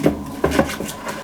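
Hands rub salt and cooking wine into a whole yellow croaker on a kitchen board, making a few close, soft squelching strokes in an uneven rhythm, with no talk.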